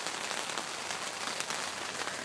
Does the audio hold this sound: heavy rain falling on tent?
yes